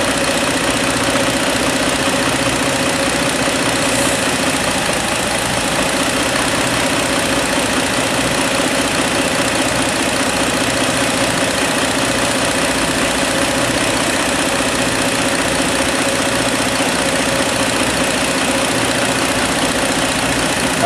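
A car engine idles steadily and evenly while propane is fed in, a continuous close mechanical hum with a faint rhythmic knock and no voices throughout.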